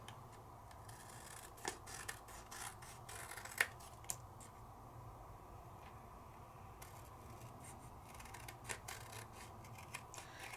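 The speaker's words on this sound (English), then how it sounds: "let's trim it down, see what we get." Cardstock is trimmed with a cutter during an alcohol-ink and embossing craft session, heard as quiet, sparse slicing and rubbing strokes with a few sharper clicks, faint and close, without any speech.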